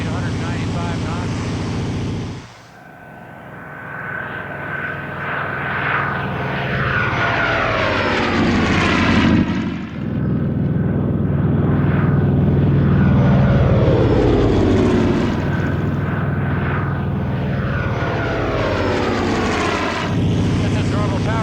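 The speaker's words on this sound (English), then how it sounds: "the Hellcat isn't as smooth as like a Mustang the way the engine runs, but it's a steady beat" The Grumman F6F Hellcat's R-2800 radial engine, turning a three-bladed propeller in flight at cruise power around 195 knots, holds a loud, continuous, throbbing drone with a steady beat and slight shifts in pitch.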